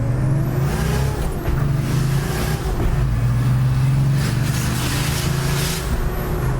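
A turbocharged car with a swapped 200hp engine accelerates hard through the gears, its loud close engine roar rising steadily in pitch with short dips at the shifts, heard from inside the car.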